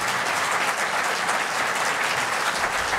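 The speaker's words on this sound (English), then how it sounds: "Can I just ask you to give 2 rounds of applause, one for the panel, Mike Nesbitt, Jim Dornan, Sophie Long and D" An audience at a panel discussion applauds the panel, a sustained, full round of many hands clapping at a steady level from start to finish.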